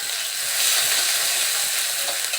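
Chopped onion and green chilies sizzle steadily in hot oil in a pan while being stirred, a dense continuous frying hiss with faint scraping, close and fairly loud, without talk; part of cooking a spice-free puti fish curry.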